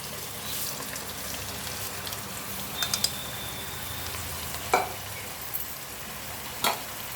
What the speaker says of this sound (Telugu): ఇప్పుడు ఆ చేప ముక్కలు వేసేస్తానండి. ఉప్పు పసుపు కారం కలిపాను కదా, ఈ ముక్కలన్నీ వేసేస్తాను.